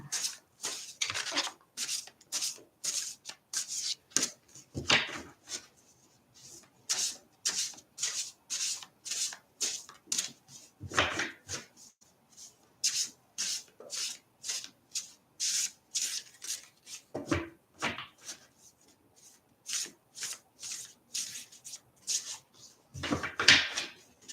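A deck of playing cards is shuffled again and again, each shuffle a short, soft, papery burst of riffling. The bursts come in an even rhythm with brief pauses between them, close by and fairly quiet.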